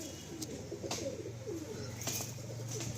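Pigeons in a loft cage give low repeated coos in soft rolling phrases, close but quiet, with a few sharp rustles and wing flutters between calls.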